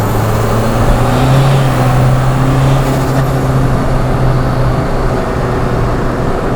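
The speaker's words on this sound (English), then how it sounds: "That was clutch slip again." A vehicle engine with a tuned Bosch VE diesel injection pump revs high and holds a sustained drone while the clutch slips, the pitch hovering rather than climbing, loud and continuous with no speech.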